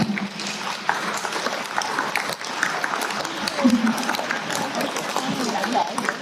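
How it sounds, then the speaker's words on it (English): Crowd clapping hands at a sea lion show at Singapore Zoo, a broad, uneven patter of many hands that rises and falls, with voices talking over it and a few sharp louder claps. "all of you try clapping your hands"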